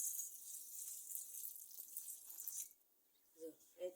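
Water poured from above into sugar in a pan, a continuous splashing hiss for a few seconds that then stops, followed by a brief voice.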